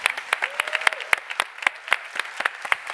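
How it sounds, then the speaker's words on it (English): Audience applause for an award winner at a summit ceremony, a sparse, fairly small crowd clapping in a steady rhythm of distinct claps, with a brief voice underneath. "One more round of applause for Anisha."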